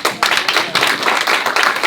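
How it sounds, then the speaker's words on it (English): Audience at a Lake area tea party meeting claps in a brisk round of applause, a dense burst of hand claps with a few short dips, fairly close and loud. "I have to give you guys a round of applause"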